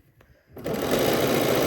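After a short quiet start with a faint click, a sewing machine starts up and runs steadily and loudly, stitching elastic seams on a swimsuit, close by and alone.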